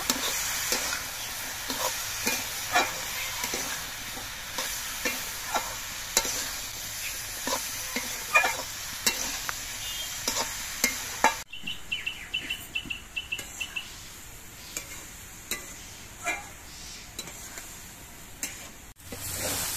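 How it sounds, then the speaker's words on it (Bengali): Slit green chillies and chopped tomato frying with onion stalks in a pan, a continuous sizzle broken by repeated scrapes and knocks of a spatula stirring, with faint bird chirps in the background. "দিয়ে দিচ্ছি কয়েকটা চেরা কাঁচা লঙ্কা আর টমেটো কুচি। এবার সব কিছু দিয়ে কিছুক্ষণ ভেজে নেব"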